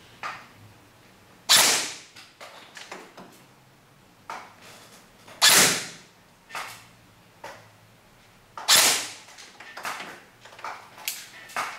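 Ra-Tech Bolt B4A1 airsoft gun firing single shots on semi-auto during an FPS test, three sharp cracks spaced a few seconds apart with fainter clicks and handling noises between them, close and otherwise quiet.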